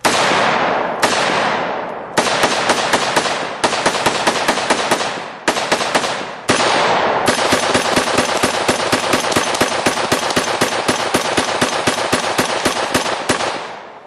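Real firearms fire at a shooting range: loud, sharp gunshots that start as single shots with gaps between them, then turn into long rapid automatic bursts. The bursts are close and ringing, with no voices.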